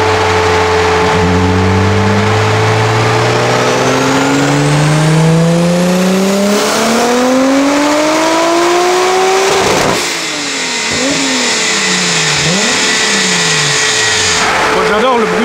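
A tuned Volkswagen Golf engine screams on a dyno, climbing steadily through the revs to a loud peak. It drops off, then blips and wavers in several rising and falling surges.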